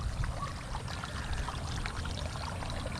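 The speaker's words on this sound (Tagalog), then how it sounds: "ito po yung ating kinukuhang patubig" Irrigation water pours steadily into a farm field planted with onions, a continuous close rushing and splashing flow with no talk.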